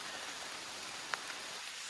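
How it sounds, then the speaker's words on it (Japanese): Steady, soft rain falling through a mountain beech forest on Mount Mahiru in Akita in late August, an even hiss throughout with a couple of faint close drops. "雨音が気持ちいいです。"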